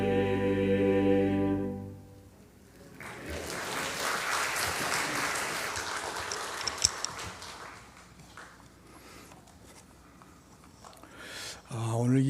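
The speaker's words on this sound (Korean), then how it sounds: "오늘 이 성가대의 찬양에 박수가 나올 만합니다." A church congregation applauds after the choir's hymn at a Sunday service, a broad wash of clapping that rises after a sustained sung chord, holds for several seconds, then thins out before an organ-like tone returns.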